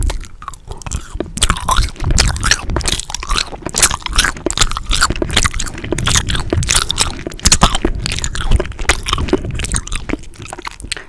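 Haribo Tropifruitti gummy candy is chewed right at the microphone: wet, squishy bites and sticky smacking repeat in a steady, close rhythm for the whole stretch, with no talking.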